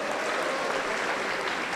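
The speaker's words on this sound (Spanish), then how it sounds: "Aplauso para Cristo Jesús." A church congregation at a Sunday service applauds together, a short burst of dense, continuous clapping from many people filling the room, steady and fairly loud with no speech over it.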